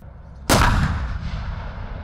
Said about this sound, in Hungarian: ahol éppen 4 önjáró löveget hoztak a lövészek működésbe